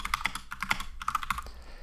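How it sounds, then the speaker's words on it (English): Computer keyboard typing text, a quick irregular run of close, crisp key clicks that thins out near the end, with no voices. "We can then just type whatever we want."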